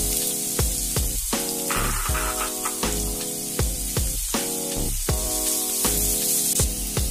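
Sliced onions sizzle loudly in hot coconut oil in a pan, a steady close hiss and spatter broken by repeated scraping strokes of a spoon stirring them.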